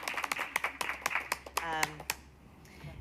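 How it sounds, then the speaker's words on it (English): A school board work session breaks into a short burst of clapping from a small group, sparse individual claps rather than full applause, with voices talking over and around it. "Oh, look, we get to even clap for you."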